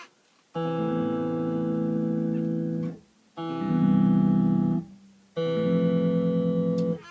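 Three sustained chords strummed on a bass guitar with an E on top and B second, each ringing for about two to three seconds with short gaps between, loud and close with thick, muddy low harmonics.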